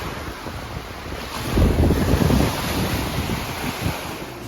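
Lake Michigan waves wash onto the shore in a broad rushing surge that swells midway and then settles, heavily mixed with buffeting wind noise on the microphone and no talking.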